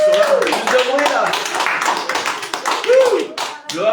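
A congregation in a church clapping together during an Easter teaching, with rhythmic hand claps and taps mixed under a preacher's loud voice calling out.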